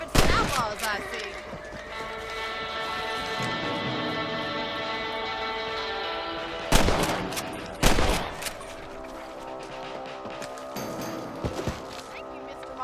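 Rifle shots from rabbit hunting in the video game Red Dead Redemption, a few sharp loud cracks standing out over a steady layer of game music and ambience, with characters talking in between.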